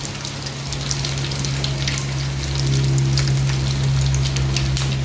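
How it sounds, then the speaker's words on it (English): Dried prawns sizzle and crackle steadily in hot oil for steamed yam cake, a dense, loud spattering hiss over a low hum, growing slightly louder partway through, with no voices. "now we will fry the prawns, dry prawns,"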